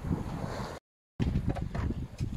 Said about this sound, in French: Bon, il y a du vent, donc ça n'est pas dérangeant.